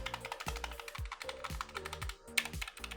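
Keys on an HP 430 wireless keypad pressed in a steady, fairly even rhythm, each keystroke a crisp, close click with a low thump, heard alone.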